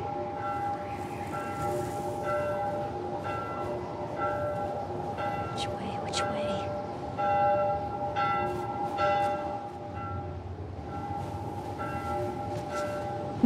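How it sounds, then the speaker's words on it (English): A bell in The Last of Us Part I tolls repeatedly in a snowy blizzard setting, clear ringing strikes recurring at intervals over a low windy background rumble, with no talk over it. "Bell is starting to sound like a little too much here"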